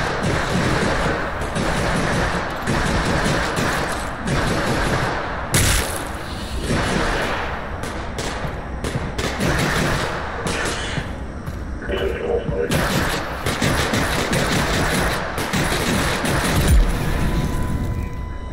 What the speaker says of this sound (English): Oh, they're shooting at the antlions.